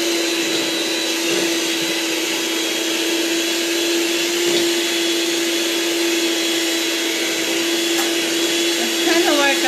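An electric mixer whirs at a steady, loud pitch while blending a pumpkin butter cream dessert in a bowl, one continuous motorised drone with slight shifts as the beaters move.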